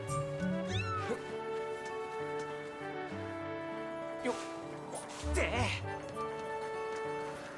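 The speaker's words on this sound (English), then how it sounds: "I hear a kitty." A cat meows repeatedly in Zelda: Skyward Sword HD, several rising cries over game music with a voice talking throughout.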